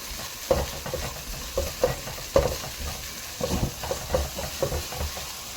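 Garlic stir-frying with beef, onion and leek in a pan, giving a steady sizzle broken by irregular scraping and clanking stirs that come every half second or so, close and fairly loud.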